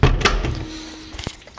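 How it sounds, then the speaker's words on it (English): A dorm room door in a Moscow university closing, a close thump and rattle at the start, then a brief creak and a softer knock. "Close the door."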